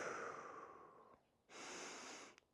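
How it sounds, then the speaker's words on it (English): One slow breath drawn in through the nose, then a longer, airy exhale out through the mouth, soft and very close with nothing else around. "in through the nose, out through the mouth"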